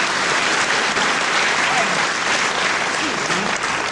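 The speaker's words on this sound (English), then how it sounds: "deserved applause from the packed crowd here at Westcliff-on-Sea" A packed crowd at a wrestling show in Westcliff-on-Sea applauds loudly and steadily, with dense continuous clapping and crowd noise filling the whole stretch. A commentator's voice sits faintly underneath.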